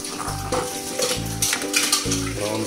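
Ghee being made at home, stirred and fried in a pan until brown, giving a steady sizzle with repeated scraping strokes of a spoon in a regular rhythm, close and fairly loud.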